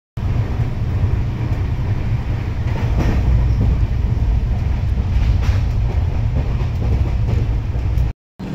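A long-distance train pulls into Tamluk station, a loud continuous rumble of wheels on rails heard from inside the coach, steady and close with faint clacking and no speech.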